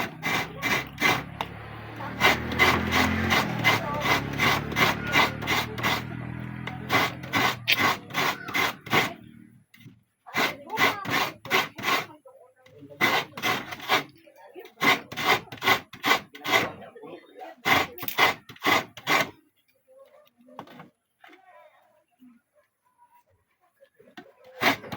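Coconut grated by hand with a manual scraper in a rural province, a fast run of sharp, regular rasping strokes in loud bursts, with short pauses between sets.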